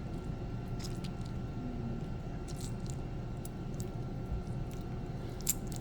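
Wet clay coil squeezed by hand, giving soft, faint squishing and a few light wet clicks over a steady low background hum, with no talking.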